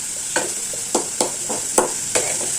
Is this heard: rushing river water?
no